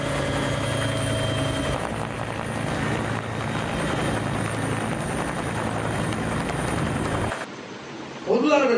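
A rescue helicopter hovers while lifting people from flooded low-lying areas by rope, its loud, steady rotor and engine drone filling most of the scene before cutting off abruptly near the end.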